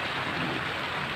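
Steady rain falls around anglers out fishing, a soft, even hiss of drops that holds at a low, constant level with no voices.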